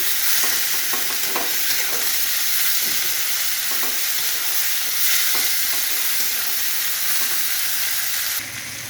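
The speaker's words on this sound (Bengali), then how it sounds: "পেঁয়াজ টমেটো ক্যাপসিকাম দিয়ে আজকে আমি একটু চিলি চিকেন করবো এগুলো দিয়ে আমি ভেজে নিলাম" Onion, tomato and capsicum fry hard in a pan for chilli chicken, a loud continuous sizzle close by broken by scraping stirs, with no talking.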